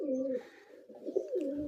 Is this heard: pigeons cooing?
yes